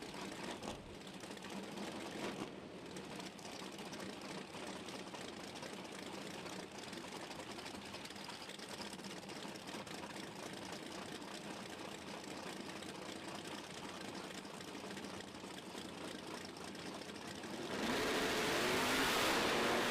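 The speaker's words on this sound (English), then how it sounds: "Ross Pistons Pro Charger on board the Hines machine here on the right-hand side." Engine noise from a Pro Charger doorslammer drag racing car at a PDRA event, a steady loud roar that surges louder near the end.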